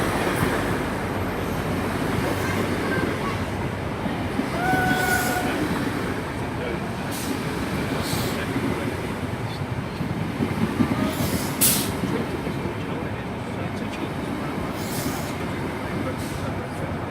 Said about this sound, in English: And only the second HST I've seen of the day.